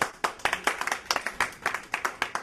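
A few audience members at a story slam clap sparsely, distinct individual hand claps in an uneven, scattered rhythm, fairly near and moderately quiet.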